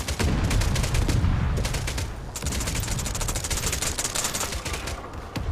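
Dense, continuous gunfire from a shootout in the Forefront VR video game, with rapid overlapping shots and bursts of automatic fire rattling steadily throughout, fairly loud and without a break.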